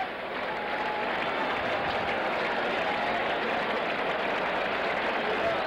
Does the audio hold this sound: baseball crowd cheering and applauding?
yes